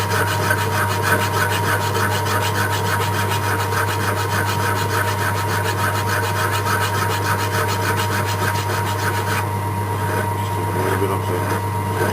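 Pen blank sanded on a wood lathe without tailstock support gives a steady rasping, rubbing scrape over a constant motor hum, close and continuous for the whole stretch, with a slight change in texture near the end.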